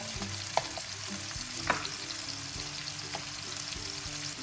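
Friggitelli peppers with garlic frying in a pan give off a soft continuous sizzle, with a few spoon knocks and stirring scrapes close by.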